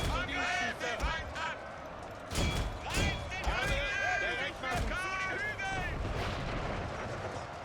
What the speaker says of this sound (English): as the artillery shots coming in, they feel they have had enough